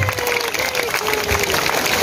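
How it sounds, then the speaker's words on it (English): Audience applauding at a night safari animal show in Singapore, a dense sustained wash of clapping from a crowd, loud and steady throughout, with some voices mixed in. "Let's give a round of applause to Midnight"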